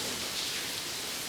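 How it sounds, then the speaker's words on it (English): Light drizzle falls as a steady, soft hiss of rain, continuous and even throughout the short stretch, with no voices. "This will quit soon. It's just a drizzle."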